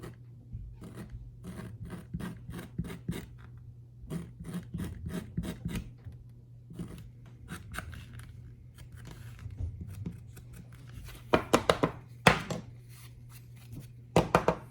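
Sandpaper rubbed along the folded edge of a handmade leather wallet, a dry rasping scrape in repeated short strokes, close and fairly quiet, with a few sharper louder passes near the end.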